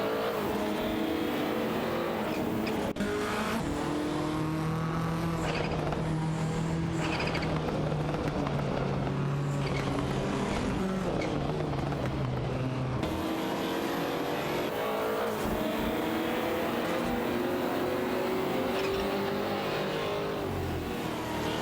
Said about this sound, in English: All three drivers are behind the wheel of the iconic Nissan Skyline GTR R33.